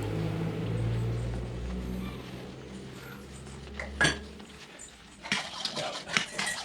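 A whisk clinks and scrapes in a pan as ghee is worked into mango halwa. A sharp metallic knock comes midway, then busier stirring near the end, with a low hum underneath.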